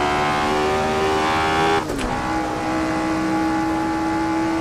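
A high, steady Formula One era race car engine whine in Assetto Corsa at Silverstone holds a constant pitch, dips briefly with a gear change, then settles back at a slightly lower tone.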